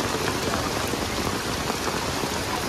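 Heavy rain pours down in Mumbai as a dense, steady, even hiss of drops striking surfaces, close and unbroken from start to finish with no voices.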